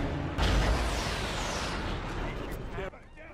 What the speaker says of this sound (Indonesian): Tom mencoba mengangkat pistolnya lagi, tapi Bill berhasil merebutnya dan mengakhiri hidup Tom dengan 1 tembakan.